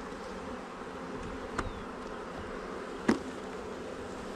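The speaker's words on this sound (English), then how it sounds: "Oh, I was dumping bees." Honeybees being dumped into a hive box in a garden give a steady, close swarm buzz throughout, with a couple of soft knocks as they land.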